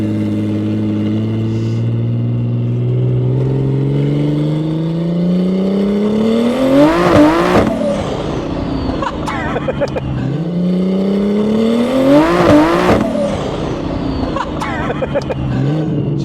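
A 1500hp turbocharged BMW M140i running 40 psi accelerates hard twice, each pull rising steeply through the gears with a loud climbing engine howl and turbo whine, broken by sharp shift cracks and pops, a voice occasionally heard between.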